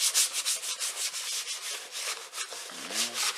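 A Range Rover L322 mirror cover is wiped with an alcohol adhesive wipe, giving rhythmic rubbing strokes close up, repeated back and forth.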